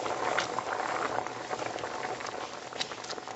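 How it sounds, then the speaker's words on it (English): Caramel mixed with heavy cream boils hard in a pan over high heat, giving a steady, close, dense bubbling and hissing that holds level throughout with no talk. "that's exactly when we want to put in 2 cups of heavy cream. And it's really going to start boiling there"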